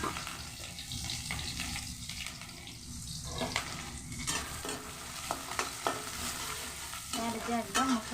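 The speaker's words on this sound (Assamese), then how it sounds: "এতিয়া চাওমিনখিনি ভাজিম আৰু। পিঁয়াজখিনি দি দিলোঁ দেই, এয়া পিঁয়াজ দি দিলোঁ।" Onions fry in a pan for chowmein and are stirred, with a soft steady sizzle under repeated scraping and clacking of a spatula that grows busier toward the end. No one speaks.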